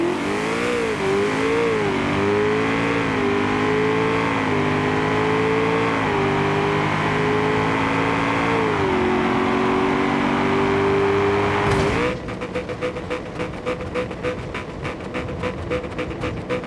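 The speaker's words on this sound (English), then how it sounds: "Ford Mustang GTD." A Ford Mustang GTD engine in BeamNG.drive holds a loud, steady high-revving drone with slight pitch wobbles, then cuts abruptly to a rapid, rattling idle near the end.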